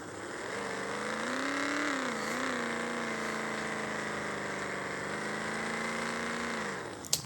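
Engine of a lowered Mitsubishi L200 pickup driven in a video game, a steady droning hum that rises slightly, dips, then holds at a constant pitch before a short click at the end.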